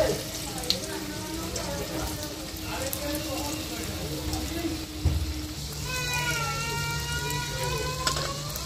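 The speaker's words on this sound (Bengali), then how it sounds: "উল্টো পাল্টা এইভাবে ভেজে নেওয়া হচ্ছে।" Egg balls deep fry in hot oil with a steady crackling sizzle, while a voice talks over it and faint clinks and tones sound in the background.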